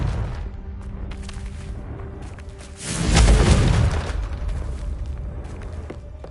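A Confringo blasting spell goes off in Hogwarts Legacy, a single loud, deep explosive boom that swells suddenly midway and rumbles for about a second before easing into a lingering low roar.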